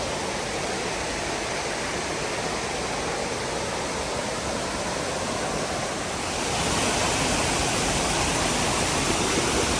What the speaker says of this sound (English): Pretty swift current coming over the top here.